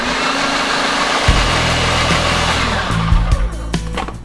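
A kitchen blender pulses a thick load of dry homemade chili ingredients. The loud motor whirs in two short bursts with a strong hum that rises and cuts off, and no one talks.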